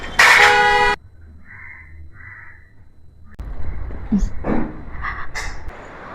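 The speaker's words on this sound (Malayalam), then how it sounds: "വണ്ടിയുടെ ഹോൺ അടിക്കും അവര് വന്നാൽ" A single loud, close car horn blast sounds at the start, followed by quieter ambient noise with faint crow caws and other distant sounds.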